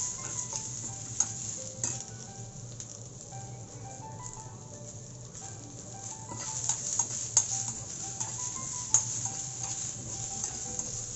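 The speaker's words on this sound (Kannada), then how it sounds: "ಇದೆಲ್ಲನೂ ತುಪ್ಪದಲ್ಲಿ ಫ್ರೈ ಮಾಡಿದ್ರೇ ಚೆನ್ನಾಗಾಗುತ್ತೆ ಸಾರು" Ingredients fry in ghee in a pan for a festival meal, with a steady close sizzle and occasional clinks and scrapes of a stirring spoon. The sound carries on its own, with no talk.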